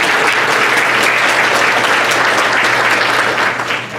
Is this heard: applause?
yes